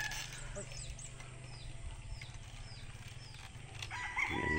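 Rooster crowing on a chicken farm in Iluru, Rizal, Cagayan, with repeated crows and farm bird calls mixed into a busy background, under a steady talking voice.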